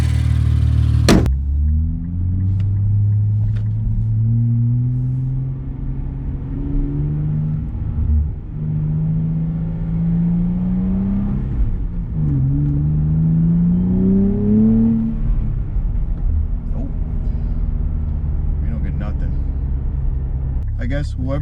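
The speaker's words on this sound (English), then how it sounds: "so hopefully we get the same amount of induction noise" Induction roar from an AMS intake on a Nissan Z RZ34 rises and falls through several rev sweeps, a deep steady rumble with climbing tones, close and loud throughout.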